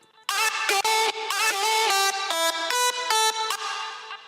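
A synth lead driven through overdrive with ping pong delay plays a quick melodic run of gritty, buzzy notes that bounce into echoes, loud and dense, tailing off at the end with no voices.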